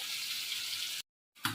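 Water is poured into a potato and pointed gourd curry with tengra fish, a steady close hissing pour that stops abruptly, then a brief sizzling splash after a short gap.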